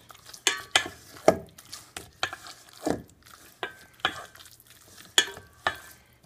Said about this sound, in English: I had no idea it was going to be this hard to stir with one hand